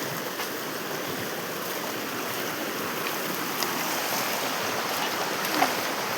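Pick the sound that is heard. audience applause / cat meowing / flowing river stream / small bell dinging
flowing river stream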